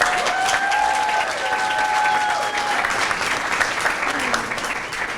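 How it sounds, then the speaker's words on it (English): Warm, steady applause from a town hall crowd welcoming a young woman named Aaliyah, sustained throughout with faint whistles or voices riding over the clapping. "Everybody give a round of applause to Aaliyah."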